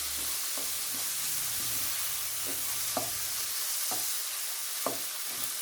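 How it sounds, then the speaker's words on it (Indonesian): Meat sautés for baked spaghetti, giving a constant bright sizzle with occasional stirring clicks and taps of a utensil against the pan. "Kita akan menumis dagingnya sampai dia juicy gitu."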